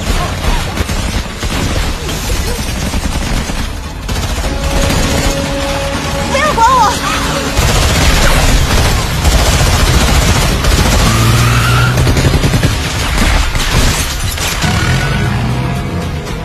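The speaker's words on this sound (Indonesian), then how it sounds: "baku tembak pun tidak terelakkan lagi" Gunfire rings out in a shootout scene from the martial-arts action film Triple Threat, with bursts of shots densely mixed with crashes, music and other effects throughout.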